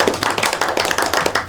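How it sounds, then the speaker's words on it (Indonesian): A geography microteaching class claps together in a brief, fairly loud burst of quick, evenly spaced hand claps. "Baik, tepuk tangan dulu dong."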